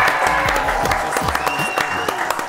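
Audience applause on a German 90s music quiz show: dense, loud clapping throughout, mixed with crowd noise, music and some talk.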